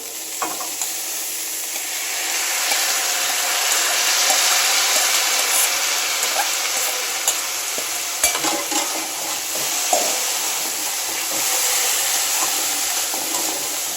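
Steady sizzling hiss of finely chopped cabbage frying in a hot pan, with occasional scraping and stirring clicks throughout.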